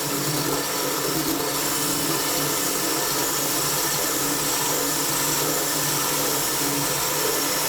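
A power drill bores a hole through shower tile during a shower remodel, producing a steady, loud, grinding whir that holds without a break for several seconds, close up and with no talking.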